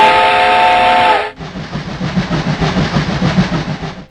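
A loud steam train whistle blasts for about a second in a Hulk cartoon, then cuts to the rumbling, clattering rush of the passing train.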